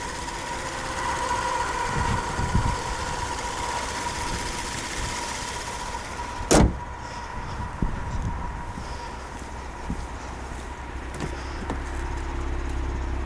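A 2021 Kia Stinger GT twin-turbo engine idles steadily with a low continuous rumble and hum, interrupted by one sharp brief burst midway, then settling into a quieter idle.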